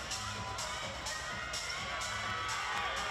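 Crowd noise at a WNBL basketball game in an indoor arena, a steady murmur of cheers and shouts behind a commentator's voice, with sharp squeaks recurring about twice a second.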